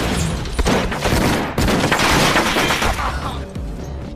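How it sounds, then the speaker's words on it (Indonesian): Gang shootout gunfire in a film, dense bursts of shots and impacts running nearly continuously at high level, with brief voices mixed in among the blasts. "geng Richie dan geng Aaron terlibat dalam baku tembak yang sengit"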